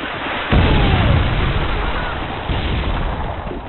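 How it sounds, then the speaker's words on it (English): A predator missile strike in the Call of Duty MW2 video game, with a sudden loud boom that swells into a long, heavy rumbling roar and a second surge of blast noise partway through, all filling the scene. "Friendly predator missile inbound."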